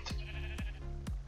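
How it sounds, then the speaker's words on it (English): Sheep bleating in the Minecraft video game, three short, identical bleats spaced evenly about half a second apart, clear and close over a faint background of game music. "Oh, I hear a sheep."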